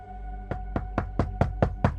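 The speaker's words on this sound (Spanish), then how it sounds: "y me tocan la puerta." Seven sharp knocks land on a door at an even, steady pace, each one clear and fairly close against a low background hum.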